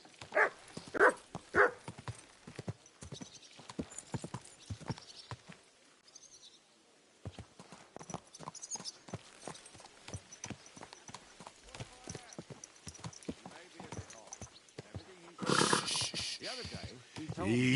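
A horse's hooves clip-clop in uneven steps, mixed with sharp knocks and other noises, while people talk nearby and a dog barks.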